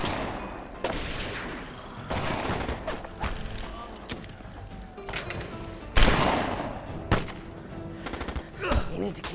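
Gunfire erupts in a movie scene, several sharp bursts and single shots ringing out over tense music and shouting voices, with a loud blast midway and scattered shots after.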